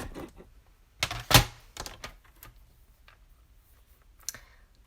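Paper is trimmed for a stamped card with a sharp trimmer click and a few scattered soft clicks and taps, all close and fairly quiet, with no voices.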